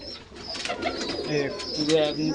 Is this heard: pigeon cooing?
yes